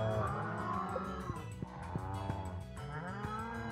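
Farm animal calls in the Stardew Valley video game, a run of low repeated moos or bleats over soft game music, with no talking.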